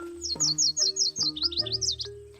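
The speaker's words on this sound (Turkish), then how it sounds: "şu sevimli kuşa da bakın." A cute small bird chirps in a quick series of bright, high tweets that repeat steadily and close by, with no talking.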